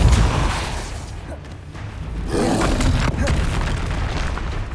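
Bombarda and Confringo spell explosions in Hogwarts Legacy, loud deep booming blasts rolling one after another with a dense rumbling tail, close and heavy.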